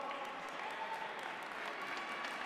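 Steady, dense applause from a crowd at a school robotics competition prize ceremony, sustained and even throughout.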